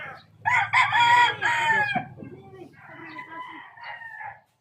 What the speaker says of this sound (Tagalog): Dako din yung manok mo.